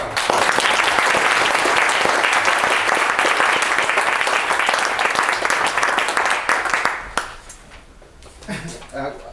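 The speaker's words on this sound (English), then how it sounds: "So a round of applause for Doug" A conference audience at the European Beat Studies Conference gives a loud, dense round of applause for co-organiser Doug that thins out and dies away after about seven seconds, followed by a brief quieter stretch.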